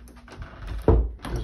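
A door in a room housing a model railroad layout swings shut with a single close, solid thud, the only sharp sound over a quiet background.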